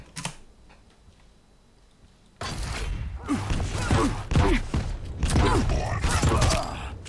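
Rocket launcher fire in Quake Champions, a run of loud thumping shots and blasts layered over busy in-game clatter, starting abruptly after a quiet lead-in.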